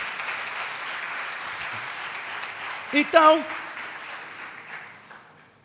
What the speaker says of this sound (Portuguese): Então dá uma salva de palmas para Jesus, porque Ele merece.